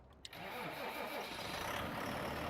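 A tractor engine in Farming Simulator 19 cranks with a sharp click and catches, then settles into a steady, loud, close idle with no voices.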